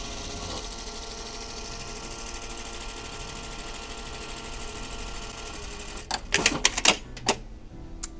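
A sewing machine stitching along the edge of a rolled hem hums steadily with fast, even needle chatter, then gives way to a few sharp clicks and clatters near the end.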